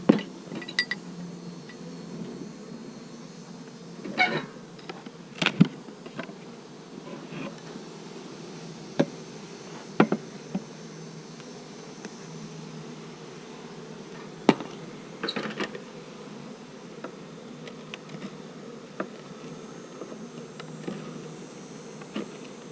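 Honeybees in an open hive colony, a low continuous buzzing hum throughout, with scattered clicks and knocks of hive frames and equipment, close and moderately quiet.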